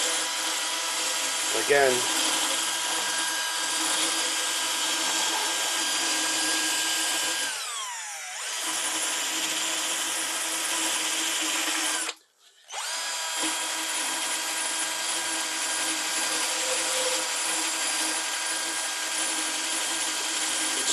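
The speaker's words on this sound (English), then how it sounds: "we're going to go ahead and clean off the hose connections" A power tool whirs continuously while cleaning grime from old heater hose connections on a 35-year-old Chevrolet C4 Corvette, with two brief drops where it slows or stops; a voice speaks briefly at the start.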